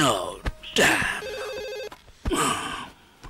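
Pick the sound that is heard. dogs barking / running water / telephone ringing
telephone ringing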